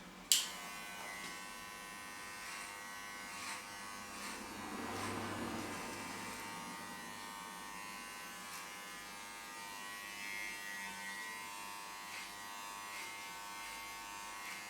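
Electric hair clippers fitted with a number 2 guard trim a beard along the side of the face, giving a faint, close, steady buzz that swells slightly as the blades pass through the hair.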